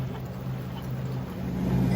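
A diesel engine motors a sailboat in calm, windless conditions, a steady low droning hum close by that swells slightly toward the end, with no talk.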